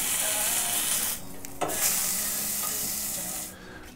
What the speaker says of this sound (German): Machst du etwa 1 Teelöffel Rapsöl drauf und werde den Fisch auf der Fleischseite zuerst anbraten.